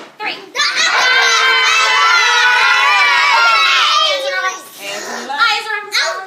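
A classroom of children lets out a loud, sustained group of angry growls and shouts together, a few seconds of overlapping voices that taper into scattered cries.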